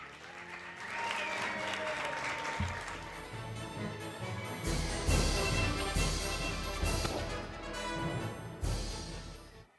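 Audience applause for the magic duo Mayhem Magic at a live show, steady sustained clapping for nearly ten seconds with a low rumble of music or crowd beneath, swelling louder midway.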